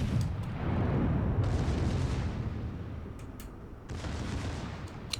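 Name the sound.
battleship Ohio guns firing in World of Warships video game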